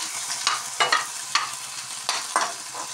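Dried fish frying in a pan, with a steady crackle and several sharp scrapes of stirring spread across the moment, close and fairly quiet with no voices.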